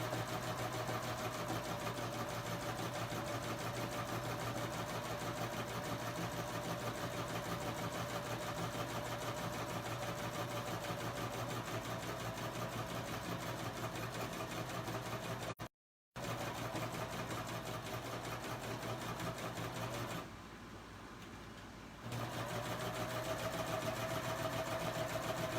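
A Baby Lock serger fitted with a curve foot runs in a steady, continuous mechanical whir, briefly stopping once and easing off later before resuming, with no voices.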